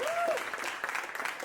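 Dense applause and clapping fill the whole moment as a steady, loud wash of hand claps, with a brief high gliding tone near the start.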